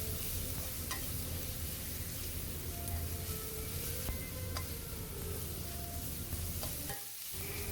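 Black pepper sautés in a pan for a tuna sandwich filling, a steady close sizzle of frying with occasional faint clicks of stirring, which drops away briefly near the end.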